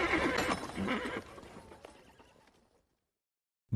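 A horse whinnies loudly up close, a shaky descending neigh over rapid hoof clatter, fading to silence before a sudden sound at the very end.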